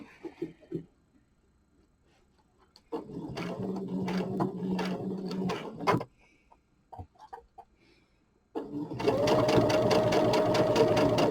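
A sewing machine stitches a quarter-inch seam in two bursts, one steady run of rapid whirring and a second louder, continuous run, separated by quieter handling noises.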